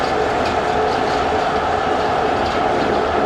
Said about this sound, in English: The train is absolutely flying.